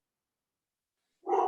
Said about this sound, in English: That was not my dog.